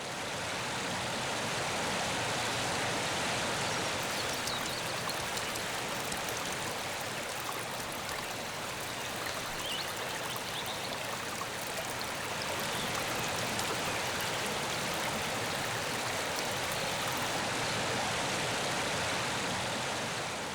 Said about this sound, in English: Although the mighty river at its source is rather more idyllic, almost like a little mountain stream.